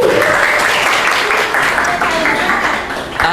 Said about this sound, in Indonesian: tepuk tangan untuk Jesslyn